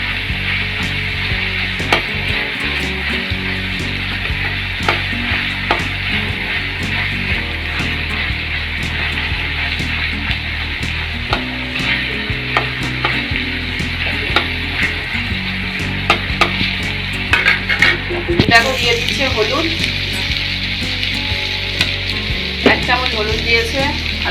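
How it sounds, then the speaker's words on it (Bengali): Crab fries in hot oil with ginger and garlic, a steady close sizzle with frequent clacks and scrapes of a utensil stirring the pan. "ভালো করে সবগুলো একসাথে ভাজা ভাজা করে নিতে হবে"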